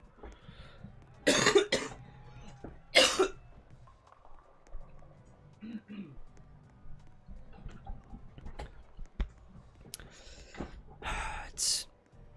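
Several harsh coughs burst out, two loud ones early and more near the end, separated by quieter breathing and faint background sounds.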